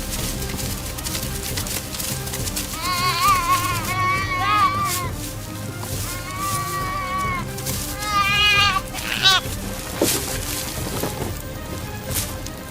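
Stray sheep bleating repeatedly in wavering calls, fairly close and loud, over a busy background of other noise and voices.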